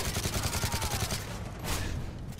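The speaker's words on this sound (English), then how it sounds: "Did that dude jump roofs and start blasting with a shotgun?" Shotgun blasts in Call of Duty: Modern Warfare 3 come as a loud, rapid string of booming reports packed tightly together, with barely any pause between them.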